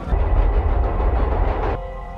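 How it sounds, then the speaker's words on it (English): A subway train rumbles nearby, a loud, steady low roar with rhythmic rail clatter that cuts off abruptly, leaving a faint hum. "Is that a train? Like a subway?"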